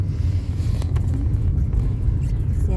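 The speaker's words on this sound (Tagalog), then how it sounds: "Traffic papunta sa Aldi yata" Steady road traffic rumbles past on a street by a river during a snowmelt walk, a continuous low drone of car engines and tyres with no clear pauses.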